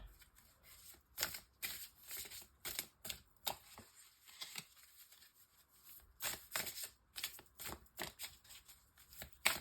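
Tarot cards being shuffled and cut during a reading, a run of crisp, papery riffles and flicks in quick bursts, some louder and closer, with short pauses between and no talking.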